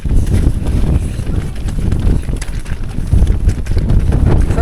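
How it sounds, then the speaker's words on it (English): Strong wind gusting across an exposed hilltop on a mountain bike ride, buffeting the microphone with loud, continuous low roaring rumble throughout, rising and falling in waves with no pause. "So windy up here now."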